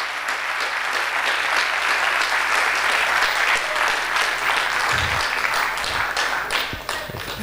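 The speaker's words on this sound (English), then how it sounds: "Here is your hand, your applause." Audience applause after a talk on astronomy, with many hands clapping in a dense, even wash that stays steady. A few louder thumps land near the end.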